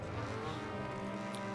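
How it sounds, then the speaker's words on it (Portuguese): A car in GTA V Online roars with a steady engine drone while its tyres scrub and skid, close and continuous for a short burst, with no talking. "O carro derrapou, mano."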